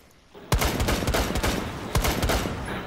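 Video-game gunfire punching through a wall: a quiet lead-in, then a loud burst of rapid shots around half a second in, a sustained string of rounds, and a second sharp volley near the two-second mark.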